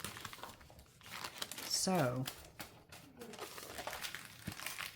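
Sheets of tracing paper crinkle and rustle close by, with a louder burst of crumpling in the middle as a voice speaks briefly over it.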